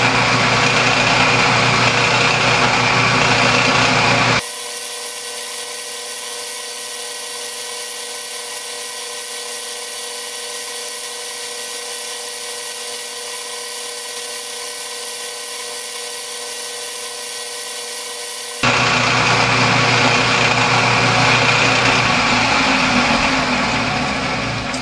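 A metal lathe runs while cutting a brass hammer head, a steady high whining machine drone that drops to a quieter hum for a long stretch mid-clip before the louder cutting whine returns.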